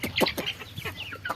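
Chickens cluck in a rapid, overlapping series of short calls, close and fairly loud, with no voices over them.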